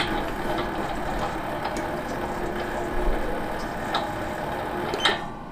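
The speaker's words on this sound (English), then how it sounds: "So the lathe is in its forward rotation position and it'll run at 100" A small lathe runs in forward rotation at 100 RPM while winding a spring, giving a steady low mechanical hum with faint rhythmic ticks and a soft knock near the end.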